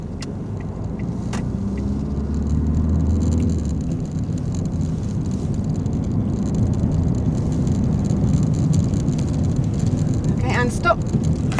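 A car engine rumbles low and steady as the car pulls away during a driving lesson, with interior road noise beneath occasional spoken instructions.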